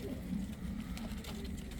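Soft cooing from three-year-old pigeons, low and continuous, close by, with faint background murmur throughout.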